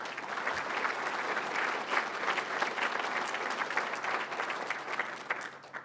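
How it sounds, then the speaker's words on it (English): Steady applause from a seated audience at a city's State of the City address, welcoming the city councillors in attendance; dense, even clapping that holds for several seconds without a break. "Please join me in a round of applause for the councillors in attendance today."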